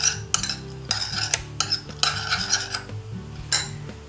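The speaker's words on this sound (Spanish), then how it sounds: "Y mezclamos bien." A utensil scrapes and clinks against a bowl in repeated strokes while vegan tuna made from watermelon is mixed with soy sauce and sesame oil, with close, rhythmic stirring and no talk.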